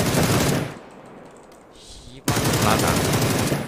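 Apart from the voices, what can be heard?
gunfire from a video game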